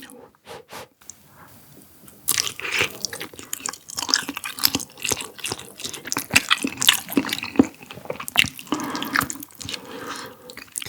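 Close-up slurps and wet mouth sounds come from someone eating the broth of spicy rice cakes with Chinese glass noodles, in quick irregular bursts after a quieter start.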